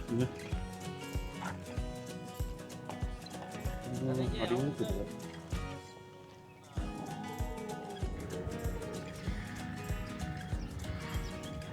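A horse at a farm resort in Ooty neighs in a brief whinny amid clip-clopping movement, close by, while people talk over much of the scene.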